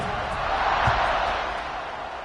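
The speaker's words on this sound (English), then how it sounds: "They're set to kick it off, and this crowd now ready to get behind them." A college football crowd in a stadium swells just before kickoff, a dense roar of fans with a brief lift in the middle, under the general crowd wash.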